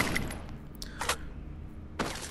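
Rapid gunfire in the Free Fire battle-royale video game, a quick burst at the start followed by two more short volleys about a second apart, moderately loud with no talk over them.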